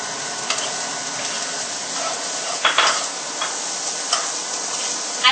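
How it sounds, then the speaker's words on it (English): Steady, soft sizzling of garlic sautéing in a pan for empanada filling, with a few light taps and stirring clicks on top. "I just hear it sizzle."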